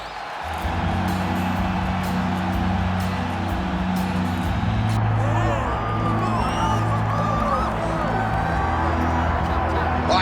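An arena crowd in EA Sports UFC 5 roars and cheers steadily, with whoops and shouts rising midway, while a commentator's voice talks over the loud, constant wash of noise.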